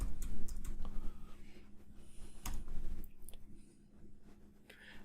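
Typing on a computer keyboard, with quiet, irregular clicking keystrokes in short bursts over a low background hum.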